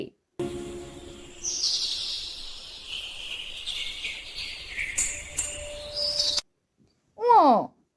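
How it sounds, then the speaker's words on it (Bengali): A dove calls from a tree as a bird-call effect in a children's Bengali alphabet rhyme, with cooing and chirping tones over a few seconds, then a short voice after a pause. "ঘতে ঘুঘু পাখি ডাকছে গাছে"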